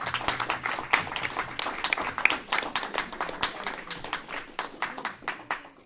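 A meeting audience claps together in a steady, rhythmic run of distinct hand claps, moderately close and continuing without voices over them.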